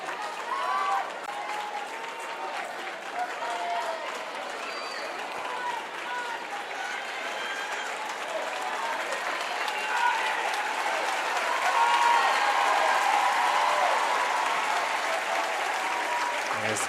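Sustained applause and crowd noise fill a pool arena at a girls' high school state swimming final, steady and broad, swelling slightly toward the end.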